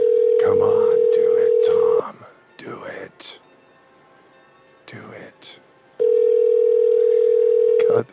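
A loud, steady telephone tone plays close by for about two seconds while calling, then breaks off; a voice murmurs in the quiet gap before the same unbroken tone returns for another two seconds.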